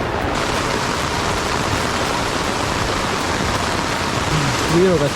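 Rushing floodwater roars in heavy Konkan monsoon rain, a loud, unbroken broadband wash of water close by, with a brief voice rising over it near the end.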